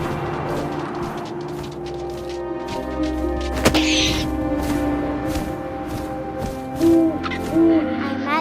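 An owl hoots in the video game What Remains of Edith Finch, with a few soft, tonal hoots late in the clip over a steady, layered ambient game soundscape and a sharp thump near the middle.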